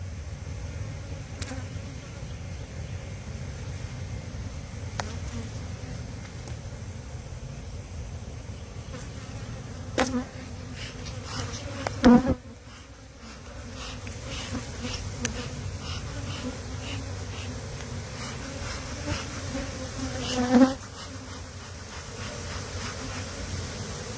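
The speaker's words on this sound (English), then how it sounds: "there are a lot of bees" Honey bees buzz steadily around an open hive, a dense, continuous hum that is near and even, with a few brief thumps and knocks partway through.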